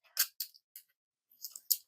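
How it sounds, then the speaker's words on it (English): A craft knife is drawn through paper along a ruler while cutting ticket strips: short, crisp scratchy slicing strokes, four or five close, bright passes separated by brief silences. "without pressing too much on the craft knife"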